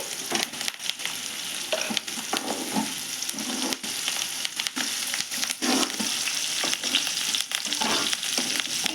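Eggs frying in hot oil with chilli-garlic powder in a pan, a steady loud sizzle with occasional scraping stirs, no voices.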